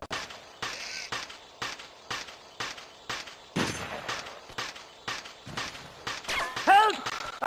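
Gunfire in the video game Ghost Recon Predator Objective Force Warrior comes as a steady run of sharp, evenly spaced bursts of shots at mid distance, with battle noise and brief shouts mixed in.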